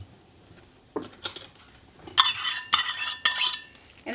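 Meat is coated with sugar-free G Hughes barbecue sauce in a bowl, heard as a quiet start followed by close, busy scraping and clinking of a utensil against the bowl in uneven bursts.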